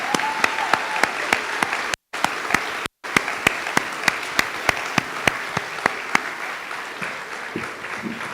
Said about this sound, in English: let's give Ms. Crockett an appropriate round of applause